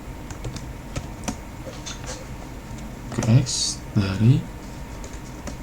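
Typing on a computer keyboard while entering code in R, with a soft run of key clicks and taps under a voice speaking in short bursts.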